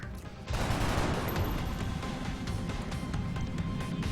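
Gunfire bursts out in the strategy game XCOM: Long War, a sustained dense rattle of rapid shots following a quieter opening moment, with no talking.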